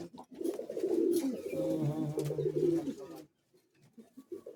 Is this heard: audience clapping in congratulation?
no